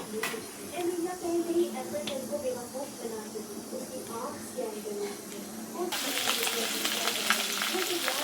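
Black masala tempering sizzles in a hot pan at a home stove, a steady crackling hiss that swells louder near the end, with someone talking faintly over it.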